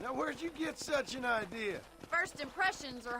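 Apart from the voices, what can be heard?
None of the usual background noises is heard.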